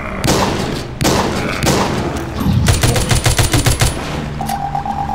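Shotgun blasts in the Walking Zombie 2 mobile game, a string of loud, close booming shots followed by a rapid stuttering burst of gunfire, then a short tonal pickup-like chime at the end; no talking.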